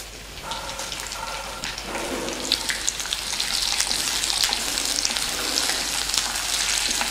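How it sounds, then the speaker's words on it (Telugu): Curry leaves frying in hot oil while tempering for a brinjal curd curry, a steady close sizzle and crackle that grows a little louder after the first couple of seconds and continues without talk. "పోపు తర్వాత కరివేపాకు"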